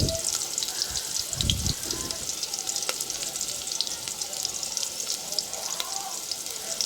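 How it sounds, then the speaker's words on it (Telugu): Onions frying with a little salt in a pan for an aloo gravy curry give a steady close sizzle, with brief utensil knocks and soft background noise throughout. "ఉల్లిపాయలు తొందరగా వేగాలంటే దీంట్లో మనం కొంచెం సాల్ట్ అయితే యాడ్ చేసుకోవాలండి, తొందరగా వేగిపోతాయి"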